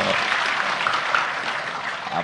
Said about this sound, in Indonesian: Top, tepuk tangan